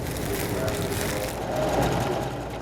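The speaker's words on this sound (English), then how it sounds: "select inmates at the maximum security Wabash Correctional Facility sort and sew, making all sorts of blankets to be donated" An industrial sewing machine runs in a steady, continuous mechanical whir as inmates sew donation blankets at the maximum security Wabash Correctional Facility, with a voice speaking over it.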